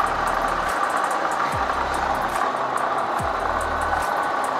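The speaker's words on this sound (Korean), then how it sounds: "엔진 소리 일정하고 좋습니다." A BMW 650i convertible engine idles close by with the engine bay open, an even low rumble with a constant hum and no voices.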